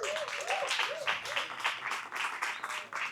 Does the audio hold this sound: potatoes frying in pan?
no